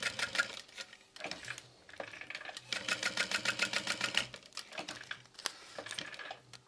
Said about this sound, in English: you want to sew right next to your hardware,